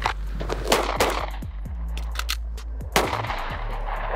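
Pistol shots fired on an outdoor range during a tactical shooting drill, a rapid string of sharp close cracks in quick pairs and bursts, with a steady low hum underneath.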